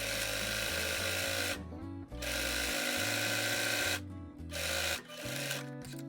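A sewing machine sewing a dress seam hums in loud, steady runs close by. Brief pauses break the stitching, and small handling noises fill the gaps.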